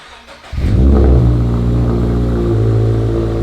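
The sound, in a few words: car exhaust revving on cold start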